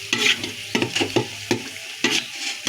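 Green chilies, onion and whole spices sizzle in a hot pan for tehari, with a steady fry broken by several sharp stirring scrapes at a regular pace, close and moderately loud with no talking.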